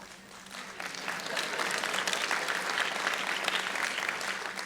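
A crowd applauding during a talk at the Skepticon 5 conference, many hands clapping together in a broad, sustained roar that builds slightly and stays steady throughout, heard from within the audience.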